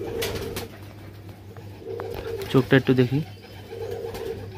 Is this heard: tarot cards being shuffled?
no